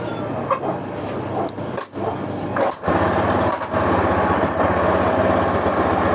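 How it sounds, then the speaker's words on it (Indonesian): A freshly rebuilt Honda Spacy carburetor scooter engine, kick-started because its electric starter is dead, runs at a buzzy high-pitched idle close by, with a couple of brief dips and one small rev before it settles. "Motor sudah nyala dan sudah normal dan tidak berasap juga."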